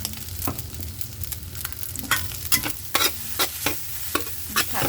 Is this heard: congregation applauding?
no